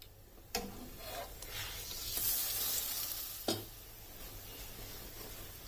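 A paratha fries in butter on a hot pan, giving a soft, steady sizzle with a few sharp clicks from the pan, heard alone without voices.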